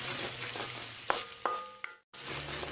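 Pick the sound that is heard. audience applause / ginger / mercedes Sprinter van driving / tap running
ginger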